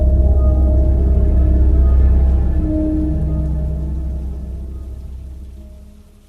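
Steady rain pours on a surface as a dense, continuous wash with a low rumble, loud at first and then gradually fading, with no voices.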